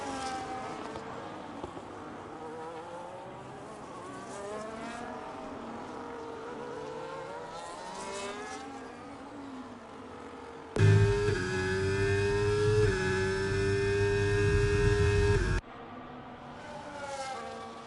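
Formula 1 race cars lapping the Australian circuit in a racing video game, with several high-pitched engine whines rising and falling as the cars pass, then one car's louder, steadier engine drone in the middle before it cuts away.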